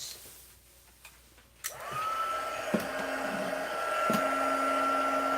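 A few faint clicks, then a small embossing heat gun whirs on with a steady high-pitched blowing hum that holds close and constant, interrupted by a couple of bumps.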